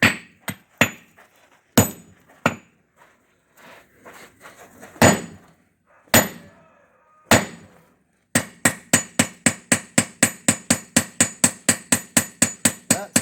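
Hammer blows ring on hot steel over an anvil while forging a bottom fuller, starting as scattered single strikes and building into a fast, steady run of loud, close metallic hits.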